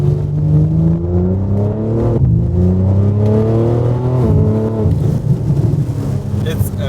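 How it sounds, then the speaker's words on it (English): A 2024 BMW G80 M3 CS on the move with its titanium Valvetronic exhaust valves open, loud and close from inside, rising through the gears with brief shift dips and ending in a rumbling burble under a little talk. "I'm gonna try with the exhaust valves open and see what it sounds like."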